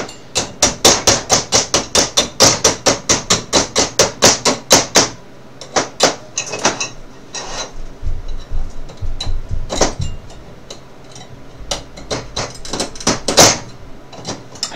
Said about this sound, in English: I want to give it a good scrape and try and get a lot of this stuff out of here